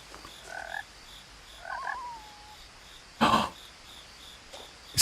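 A couple of frog croaks from the game What Remains of Edith Finch, brief rasping calls early on, followed by a sharp louder burst, set against quiet ambient background.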